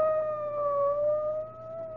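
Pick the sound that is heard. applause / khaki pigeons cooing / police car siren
police car siren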